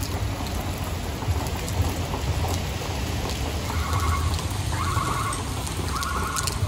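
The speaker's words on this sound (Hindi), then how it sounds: "बहुत बारिश है, हम आगे जाने से मजबूर है" Heavy rain pours steadily on surfaces outdoors, a dense, constant hiss with low rumbling underneath and faint higher tones drifting in toward the end, no speech.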